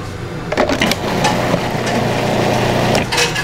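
A kitchen blender purees cilantro, garlic, chipotle and salt into a green sauce, whirring loudly and close with a steady motor drone and a few uneven surges as the contents churn.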